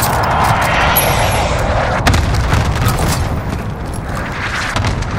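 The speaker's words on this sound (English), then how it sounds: "Good copy. Cluster strike away." Cluster strike artillery explosions in Call of Duty: Modern Warfare, a continuous rolling barrage of deep booms and rumbling blasts, loud and sustained without a break.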